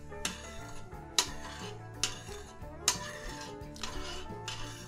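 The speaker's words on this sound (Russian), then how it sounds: "перемешиваем." A spoon stirs citric acid into sugar syrup in a pot, clinking against the metal in quiet, irregular taps spaced about a second apart.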